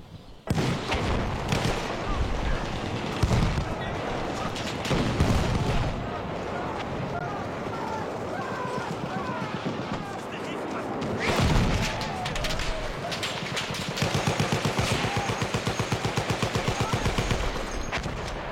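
MG15 sniper rifle and other weapons firing in a multiplayer shooter game match, dense bursts of rapid gunfire and booms running almost continuously, loud and close, with a commentator talking over the action.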